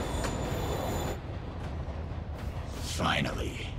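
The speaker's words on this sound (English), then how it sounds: "Train moving." A moving train in the video game Marvel's Spider-Man Remastered gives a low, steady rolling rumble that swells briefly near the end, with no talk over it.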